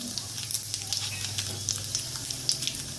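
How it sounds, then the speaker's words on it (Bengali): Whole cumin seeds crackle and sizzle in hot oil for tempering, alongside dried red chillies, during preparation of a vegetarian banana-flower dish; a steady, close hiss with small popping bursts runs throughout, with no talk. "এবার আমি গোটা জিরে দিয়ে দিচ্ছি ফোড়ন"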